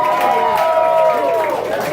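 Audience applause and cheering at a comedy showcase, a dense wash of clapping with whoops rising over it, loud and steady for the full two seconds.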